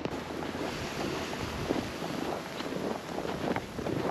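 Strong storm wind blows powdery snow in the mountains, a steady, loud broadband roar with constant buffeting gusts and no voices.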